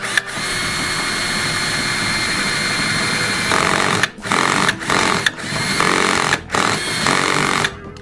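A power drill fitted with a 6.5 mm bit bores a screw hole for an armrest on a Garrett ACE 250 metal detector, whining steadily and loudly, then stopping and restarting in several short bursts near the end.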